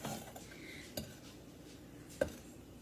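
A utensil stirs melting butter for toffee in a heavy pan, producing a few soft scrapes and two or three distinct metallic clinks against the pan over a quiet background, with no voices.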